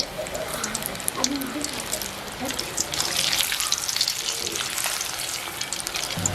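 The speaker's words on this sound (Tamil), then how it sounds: "இப்போ நாங்கள் ஒன்றொண்டா போட்டு பொரிப்போம்." Steady, close sizzling of Tamil sweets frying in hot oil, with occasional stirring and scraping, and quiet talk underneath.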